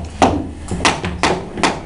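Tap shoes striking a wooden tap floor, four crisp, sharp taps spaced roughly half a second apart, close and alone with a slight room ring.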